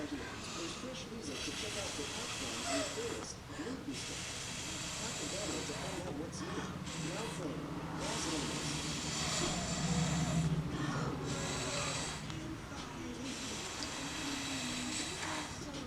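Paint for a fluid art piece on tiles is spread by blowing air across it: a close, breathy hiss in long continuous bursts broken by a few short pauses.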